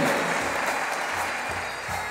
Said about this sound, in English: Let's give them a resounding of applause